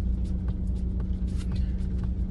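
A BMW X3 xDrive 20d diesel in sport mode launches from a standstill with a close, steady rumbling engine and road noise under a run of faint ticks and clicks.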